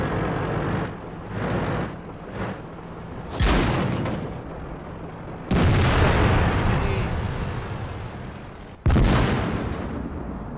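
Heavy tank cannon blasts from the video game World of Tanks, three loud booming shots spaced a few seconds apart over a constant engine rumble.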